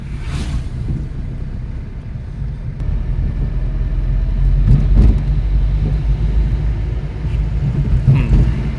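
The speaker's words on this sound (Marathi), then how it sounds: "आता परत एक्सिलेटर घ्या" Car engine revving up in third gear as the vehicle accelerates from about 30–40 to 40–50 speed, a steady loud low rumble with road and wind noise swelling slightly midway, no voices.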